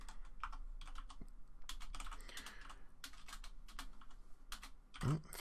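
Rapid, steady typing on a computer keyboard fills the stretch, a run of close clicky keystrokes in short bursts, alone with no voice, ending in a slightly heavier thump.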